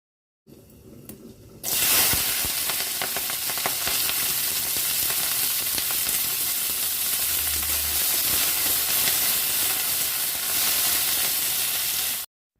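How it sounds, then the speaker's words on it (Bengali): Fennel, fenugreek and nigella seeds hit hot mustard oil in a kadai and sizzle loudly, a steady close crackling hiss that goes on for about ten seconds before it stops. "এবার খুব সামান্য করে মৌরি, মেথি, কালো জিরে ফোড়ন দিয়ে দিলাম।"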